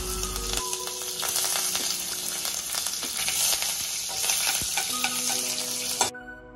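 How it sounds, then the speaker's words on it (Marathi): Mustard seeds, cumin, asafoetida and curry leaves crackling in hot oil with urad dal for a vermicelli upma tempering, a loud continuous sizzle with spitting pops that cuts off abruptly near the end. "डाळीचा रंग हलका चेंज झाल्यावरती मोहरी आणि जिरे घातले, थोडासा हिंग"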